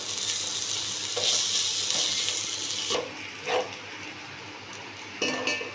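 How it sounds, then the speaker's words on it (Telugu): Ginger-garlic paste fries in a pan for Andhra coconut rice, a continuous sizzling hiss punctuated by a few short scraping stirs, close and fairly loud with no talking. "ఇప్పుడు అల్లం చిన్నులపాయ పేస్ట్ పచ్చివాసన పోయేంత వరకు వేసుకోవాలి"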